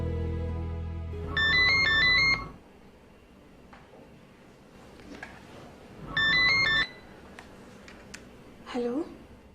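A phone ringtone plays in two short bursts of bright electronic melody separated by a quiet gap, clear and close, with a brief tonal sound after the second ring.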